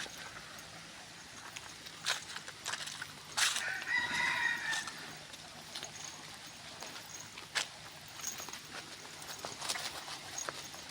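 Chickens and a rooster at the Dong Yang monastery in Na Thom, Nakhon Phanom, Thailand: a single moderately distant cock-a-doodle-doo rises over steady outdoor ambience, with scattered clucks and small knocks around it.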